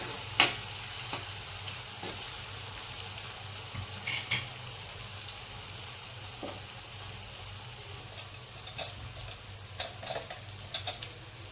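Onions sizzling and frying in a pan for a fresh fenugreek dish, a steady crackle with occasional sharper pops and stirring scrapes, close by.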